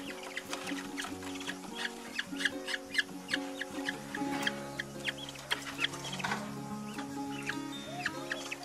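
Budgerigar chicks in a nest give rapid, repeated high cheeps and chirps, fairly close and continuous, with some scratchy rustling underneath.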